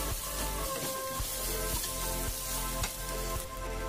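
Ginger and garlic paste frying in hot oil in a pan for a restaurant-style fish curry: a bright, dense sizzle runs throughout, with regular clacks of a spoon stirring, near and steady, no voices.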